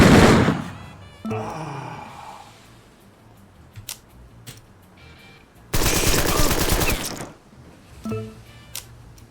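Submachine gun fire from the Empire of Sin video game, with a loud opening volley, a sustained rapid burst midway and a few scattered single shots and clanks between.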